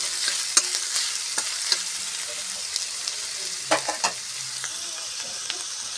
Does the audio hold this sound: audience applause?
no